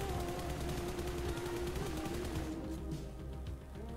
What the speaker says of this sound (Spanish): Cuando tira los tiros con el rifle